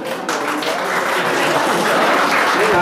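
Steady applause from the audience at a teacher award ceremony as an honoree is called to the stage, continuous dense clapping at even loudness from start to finish.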